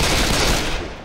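Gunfire in Left 4 Dead 2, a brief, loud, continuous burst of rapid shots with no talking.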